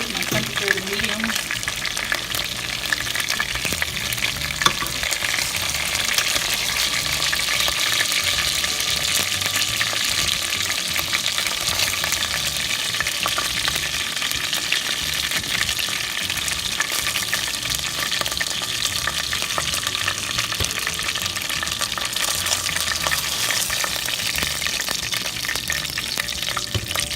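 Chicken wings fry and brown in hot oil in a pot on a stove, a constant close sizzle and crackle that runs unbroken for the whole stretch.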